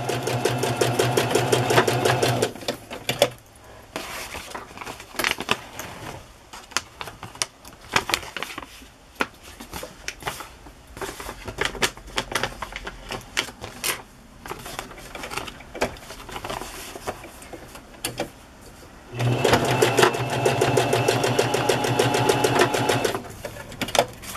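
Sewing machine zigzag-stitching fabric for a small collage on paper, running in a fast, busy rattle with short pauses and a denser burst near the end, close and loud.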